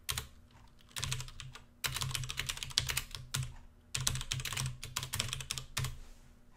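Rapid typing on a computer keyboard while entering data into a COBOL program, with bursts of close, crisp key clicks separated by short pauses and no talking.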